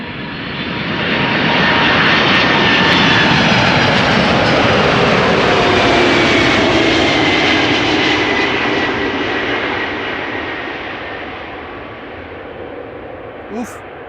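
A Turkish Airlines A330 airliner lands at Amsterdam Schiphol, its engine roar building to a loud, broad rush that holds for several seconds and then slowly fades, with a brief knock near the end.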